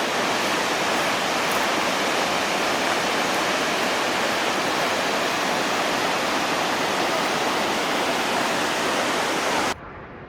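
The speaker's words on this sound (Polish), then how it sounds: "Widok na wodospad, który jest obok." A waterfall near Melkevoll Bretun campsite in Norway roars in a steady, dense rush of water, loud and unbroken, then drops off abruptly near the end.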